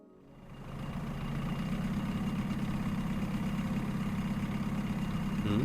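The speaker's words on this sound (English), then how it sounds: "I hear the sound of an engine coming up behind us." Ship engine in the visual novel ISLAND, fading in from silence and settling into a steady low rumbling drone that holds at an even level, close and alone.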